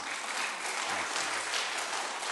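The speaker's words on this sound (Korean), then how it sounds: "우리 다시 한번 박수하시겠습니다." A church congregation applauds the choir during a Sunday service, a soft, even rush of many hands clapping from across the sanctuary, steady and unbroken for a couple of seconds.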